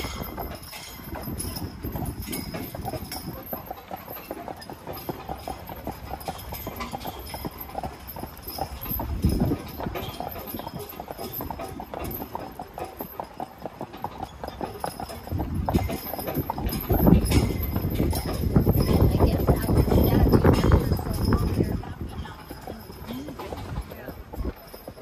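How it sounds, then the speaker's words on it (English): A team of black Percheron horses draws a wagon along a street, their hooves clip-clopping steadily and fairly close. Traffic noise and a few voices sit under the hoofbeats. "Love the sound of the hooves."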